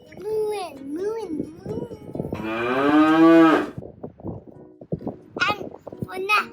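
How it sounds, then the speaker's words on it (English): A cow lets out a long, loud moo, bracketed by playful sung and spoken children's-show voices before and after, with the low bovine call rising clearly above the chatter in the middle. "Mooing."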